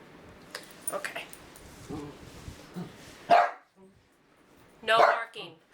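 Small dog barking indoors at home, a few sharp barks and whimpers, the loudest two near the end, with someone talking over the earlier part.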